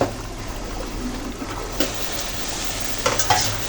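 Food is stirred in a pan over a low hum and gentle sizzle, with scraping spoon strokes and a few louder clatters toward the end, heard up close.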